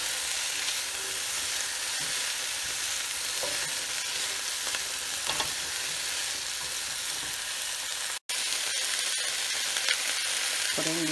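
Leeks and potatoes being stirred in a pot for potato leek soup, a steady close sizzle and soft scraping running throughout with one brief break near the end.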